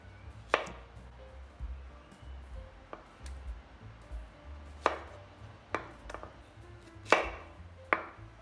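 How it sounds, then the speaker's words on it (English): A knife cuts eggplants into pieces on a cutting board, with about eight sharp, separate chops at an uneven pace over a quiet background with a faint low hum. "Cut into bite size for small ones. I'm just gonna cut in half."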